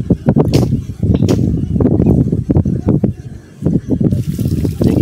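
Water gushes out of a newly laid pipe in splashing, uneven bursts, close and loud, with brief surges and a short lull near the end.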